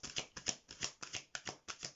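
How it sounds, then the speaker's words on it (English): A tarot card deck being shuffled, with a run of quick crisp riffling bursts repeating at a steady rhythm, close and fairly soft with no talking. "I love shuffling these ones"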